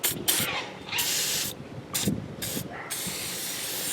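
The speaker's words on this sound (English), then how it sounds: "So the last thing I'm going to do is use the actual protector. So I'll just spray this" An aerosol battery protector spray hisses in several sharp bursts onto a battery's terminals, each lasting a fraction of a second to about half a second, close and loud.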